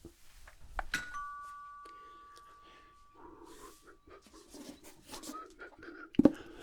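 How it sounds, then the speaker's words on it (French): A soft two-tone electronic chime rings once early on, followed by quiet rustling, faint voices and a sharp knock near the end. "Alors la sonnette là."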